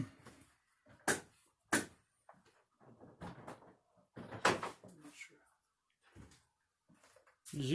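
A closet door in a house being pulled open, giving several sharp knocks and thuds scattered through the stretch amid whispered and hushed talk nearby.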